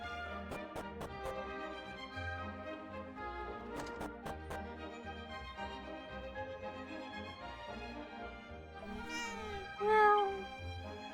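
A cat meows in the Dragon Quest VII video game, a rising cry near the end over steady game music and sound effects.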